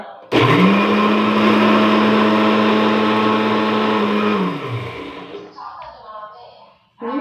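A mixer grinder blends papaya and mango for ice cream with a loud, steady whirring drone, starting abruptly, holding for about four seconds, then winding down, with a brief restart at the end.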